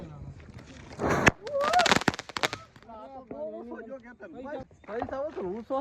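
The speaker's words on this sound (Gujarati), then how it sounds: "હવે આપણે ફટાકડા ફોડવાનું સ્ટાર્ટ કરવાનું છે" Diwali firecrackers burst in a loud, crackling volley over about a second and a half, followed by excited voices talking and exclaiming close by.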